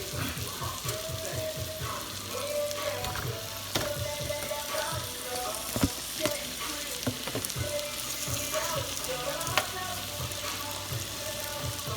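Jerk chicken and shrimp sizzle steadily on a grill, a dense continuous hiss with small pops and crackles, close and fairly loud throughout with no talking.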